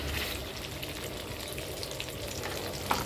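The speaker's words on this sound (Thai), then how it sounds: "ผัดพริกแกงให้หอม" Steady, close sizzling of curry paste frying in a hot pan, a continuous crackle with a light clink near the end.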